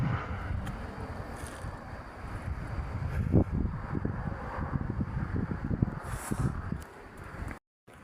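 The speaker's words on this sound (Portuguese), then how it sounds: "Deus fazendo um pouco de vento aqui na cidade de Joinville" Wind gusting through Cemitério Dona Francisca in Joinville, a loud rumbling buffet against the microphone with rustling, steady throughout before cutting off near the end.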